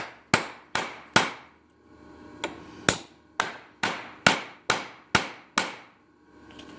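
Sharp, ringing hammer blows on a 3/16-inch truss head metal rivet, about a dozen evenly paced strikes, each decaying quickly, close up with no talking.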